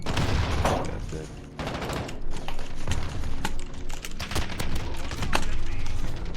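Rapid bursts of gunfire in a shooter game: sharp repeated shots and automatic volleys crackle in uneven clusters throughout, loud and close, with a voice speaking intermittently underneath.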